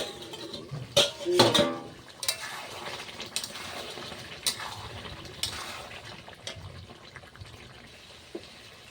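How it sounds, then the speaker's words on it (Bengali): A metal lid lifted off a pot of mutton kosha cooking on the stove: a few light clinks and scrapes near the start, then a soft, steady simmer of bubbling liquid with faint kitchen clatter. "ঢাকনাটা নামিয়ে"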